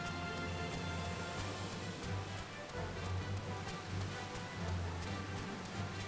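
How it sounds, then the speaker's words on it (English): Soft, steady patter of rain in the video game Final Fantasy, with a faint low hum underneath, quiet and continuous with no voices. "of course it's raining again"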